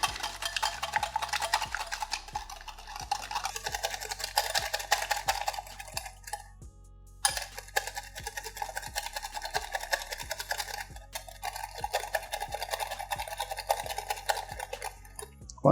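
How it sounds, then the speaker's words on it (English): Eggs and sugar being whisked in a bowl for golden coin cookie batter, a fast continuous rhythmic clatter of the whisk against the bowl, close and steady, with a brief pause midway. "whisk the eggs and the sugar till the sugar really breaks down and makes the egg creamy"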